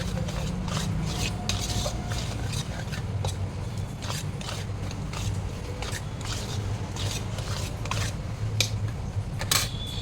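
Gram flour (besan) being lightly dry-fried and stirred in a pan, a steady scraping and rasping of a spatula against the metal with faint sizzling, continuous and close throughout.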